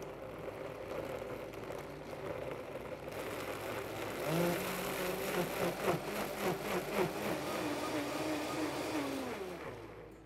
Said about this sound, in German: Und dann kommt diese gesamte Masse dort hinein und dann wird püriert.